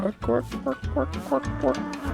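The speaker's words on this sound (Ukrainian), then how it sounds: "Корова." A cow in a medieval video game moos several times in quick succession, close and clear, with a slightly synthetic, game-like quality.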